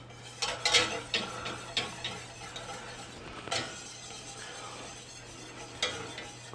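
A spoon stirs a thickening white sauce in a pot on the stove, giving soft scraping and clinking against the metal at irregular intervals, with a low steady hum of heat beneath and no talking.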